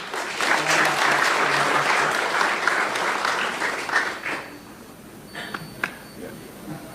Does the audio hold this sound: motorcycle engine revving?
no